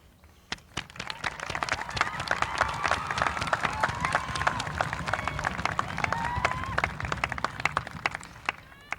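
A crowd applauding at a high school commencement ceremony, dense clapping swelling and holding steady with some cheering mixed in, then thinning out toward the end.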